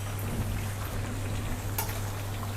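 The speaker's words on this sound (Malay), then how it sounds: "sementara tu kita goreng ikan di sebelah" Whole fish (siakap) deep-frying in hot oil over a strong flame, a steady dense crackle and sizzle with a low hum beneath and no talking.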